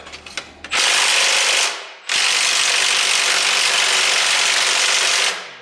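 A ratchet wrench works bolts on a hydrolocked Jeep 4-liter engine, giving loud, close, sustained bursts of rapid clicking: one short run, a brief pause, then a longer continuous stretch.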